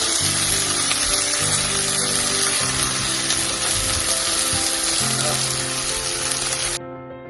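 Chopped onion sizzles in hot oil in a pan for sprouted lentil soup, a steady bright hiss running under a low humming tone, ending abruptly.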